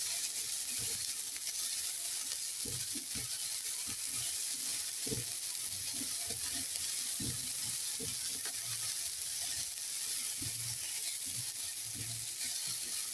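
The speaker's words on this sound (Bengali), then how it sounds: "মটরশুঁটি দেওয়ার পর আরও মিনিট খানেক নেড়ে চেড়ে নিচ্ছি।" Boiled peas and mixed vegetables stirred and fried in a pan for oats masala, with a steady soft sizzle and repeated low scraping knocks of a spatula throughout.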